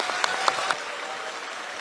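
Applause for a speaker being called to the podium at a Korean political party meeting, a faint, steady wash of clapping with a few sharper claps standing out near the start.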